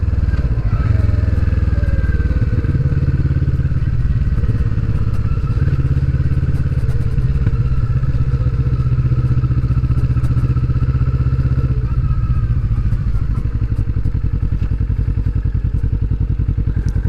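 A Kawasaki Vulcan S motorcycle engine idles close by with a steady low throb while the bike is parked, with occasional clatter and thuds on a loose road surface.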